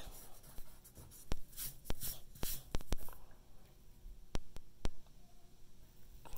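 A pencil sketch on paper is erased with quick rubbing strokes and light taps, close and quiet, in short bursts separated by pauses.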